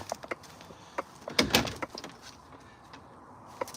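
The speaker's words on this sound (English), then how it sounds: "Let's open the doors for you." Doors being opened by hand, a brief loud scraping and rattling clatter midway through, surrounded by faint clicks and light handling noises, with no talking.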